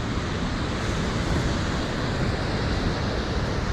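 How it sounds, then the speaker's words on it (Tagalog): Cascade Falls waterfall in British Columbia, Canada, pouring as a steady, loud, broadband rush of falling water that holds constant without pause, with no voices over it. "So na diha ang falls."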